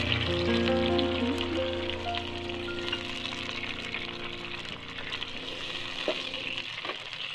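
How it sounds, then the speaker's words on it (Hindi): Tomatoes sizzle and fry steadily in hot oil in a home kitchen pan for a chana dal, a continuous close crackling hiss with a faint stir near the end. "अब तेल गर्म होने के बाद हम इसमें टमाटर ऐड करने लगे हैं।"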